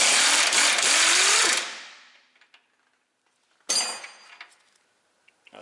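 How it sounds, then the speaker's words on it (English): An impact-style tool rattles loudly on strut bolts of a 2004 Ford Explorer 4X4 using an 18 mm socket and 21 mm wrench, a burst of about a second and a half, then metallic clanks and clinks of tools nearby. "Got an 18 mil socket on one side and a 21 millimeter wrench on the other."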